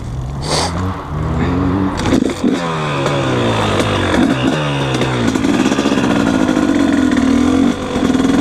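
A 2020 KTM 250 SX two-stroke dirt bike runs close by, its engine revving up and down in sweeping, rising and falling pitches, loud and raspy, with no talk over it.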